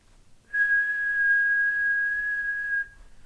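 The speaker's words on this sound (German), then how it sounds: "Und unser Roof Rack hat folgendes Geräusch gemacht. Jedes Mal, wenn wir über 50 km/h gefahren sind." Roof rack on a Suzuki Jimny 4x4 micro camper whistles while driving above 50 km/h, a single steady, piercing whistle tone that holds for about two seconds before cutting off, clear and alone.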